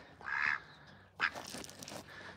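A duck being handled while animals are fed gives two quacks, a nasal call followed after a pause by a harsher, noisier one, close and clear with no talk.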